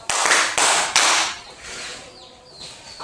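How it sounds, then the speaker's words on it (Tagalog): Schoolchildren in a classroom clap three times together, three sharp, evenly spaced loud claps followed by quieter room noise and faint chatter. "Bigyan ng 3 palakpak yung mga sarili."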